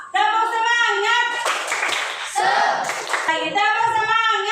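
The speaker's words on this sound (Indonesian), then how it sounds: "Tepuk semangat" A class of children's voices chants together in a classroom, broken midway by a short burst of rhythmic group clapping before the chanting resumes.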